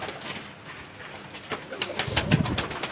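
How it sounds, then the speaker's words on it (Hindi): Pigeons of various breeds coo at Ustad Rana Razzaq's house in Chunian, soft rolling coos building louder toward the end, with a light flutter of higher chirps nearby. "उस्ताद राना रज़ाक साहब ऑफ चूनिया के घर की कबूतर, उन्हीं के घर में आपको अब दिखा रहे हैं।"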